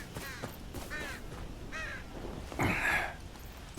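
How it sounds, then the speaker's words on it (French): Crows cawing in the video game Game of Thrones Kingsroad, a few harsh calls spaced out over background ambience, with a louder, fuller caw near the end. "Généralement quand on entend des corbeaux ça veut dire ça."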